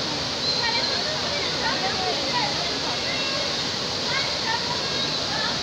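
Floodwater from heavy rain rushes past in a loud, continuous roar, with people's voices talking over the flow.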